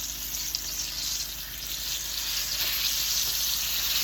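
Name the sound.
turkey frying in oil until crisp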